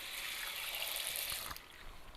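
Water pours steadily into a pan of Southern fried pork chops, a close, bright splashing hiss that runs for about a second and a half before easing off.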